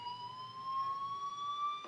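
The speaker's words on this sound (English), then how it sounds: "Hey, do you hear that fire alarm?" A fire alarm in the video game Life Is Strange sounds as a steady, continuous electronic tone that rises slightly in pitch and holds at a moderate, even level throughout, with no talking.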